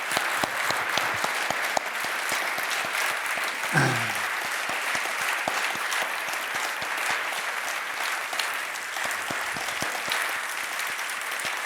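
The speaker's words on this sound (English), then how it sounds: "applause to Jamie." An audience at an audio engineering convention in Europe gives a speaker sustained, dense applause. The clapping stays steady and fairly loud throughout, with a brief low thump partway through.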